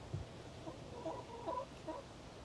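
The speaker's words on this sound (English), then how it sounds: "It's a chicken talking to me" Faint, soft clucking from a nearby chicken, a few low murmuring clucks scattered over a noisy outdoor background.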